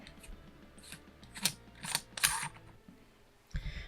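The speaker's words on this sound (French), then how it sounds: "je viens dévisser le top cap" The top cap of a Voltrove 41 RTA vape atomizer is unscrewed by hand, giving a few faint, close metallic clicks and thread scrapes in short bursts over a quiet room hum.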